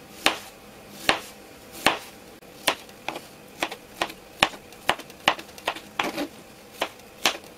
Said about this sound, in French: vous allez également découper cette poire en petits cubes